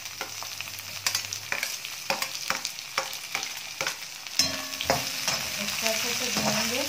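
Finely chopped onions go into hot oil with browned garlic and fry, as a spoon clacks in rhythmic stirring strokes and the sizzle swells louder and steadier once the onions land in the pan.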